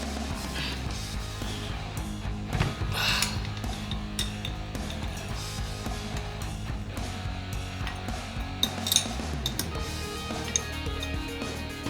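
Metal bolts and washers come out of a motor case amid steady close clinking, ratcheting and small metallic taps, over a constant low mechanical hum that persists throughout.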